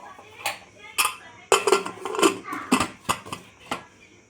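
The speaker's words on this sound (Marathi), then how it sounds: "कुकरचं झाकण लावून घेऊयात." A metal pressure cooker lid is fitted onto a cooker holding water and pumpkin pieces, with a series of sharp clanks and clinks of metal against metal, close and uneven in rhythm.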